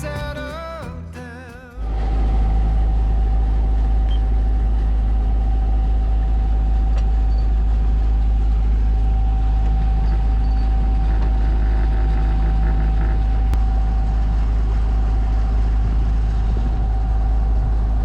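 A boat motoring between Greek islands in the Aegean, a loud, steady engine drone with a constant hum that continues unbroken after a brief quieter start.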